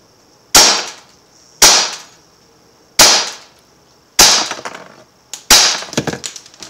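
Five loud, sharp shots from an Umarex HK USP .177 air pistol hit a phone target, evenly spaced at roughly one-second intervals, each a sudden crack, the later ones trailing into brief clattering rattles.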